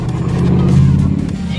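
A loud truck engine revs as the gas is pressed, a dense, close rumbling roar that swells to a peak midway and then holds steady.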